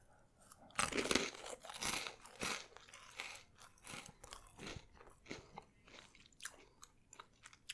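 Crunchy chewing of Star Wars Goldfish crackers close to the mic, a steady run of crisp bites and mastication with a few louder crunches, no talking.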